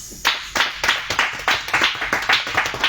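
A class claps for students during a mathematics session, a steady run of quick, even handclaps, close and moderately loud, lasting a few seconds.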